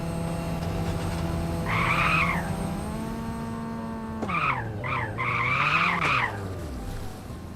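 Cars in a Unity3D video game skidding, with sustained synthetic tire squeals that rise and bend in pitch over a steady engine drone, several overlapping screeches, loud and close with no talk.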